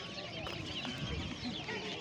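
Village chickens cluck and chatter softly at an outdoor poultry market in Sungurlu, Çorum. The bird calls are faint and scattered, set against a busy background murmur of the market crowd.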